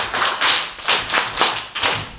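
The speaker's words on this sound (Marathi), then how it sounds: "क्लॅप्स गो." A class of fifth-graders at a Zilla Parishad model school applauds the prize winners of a weekly general knowledge quiz, with rhythmic clapping swelling in several waves and no voices.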